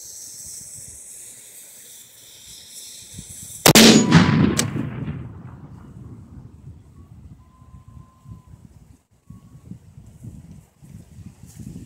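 A homemade mortar launches a bowling ball in a single loud, sharp blast outdoors, followed by a hissing, rumbling decay that trails off into quiet ambient noise.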